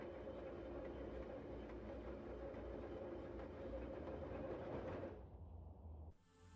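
A train ride in the video game Parasite Flower rumbles steadily with faint rhythmic clacking, then drops abruptly near the end to a quieter hiss.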